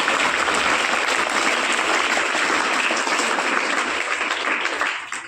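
An audience at a Marathi Language Day talk applauds in a sustained, dense wave of clapping that holds steady for several seconds before tapering off at the end.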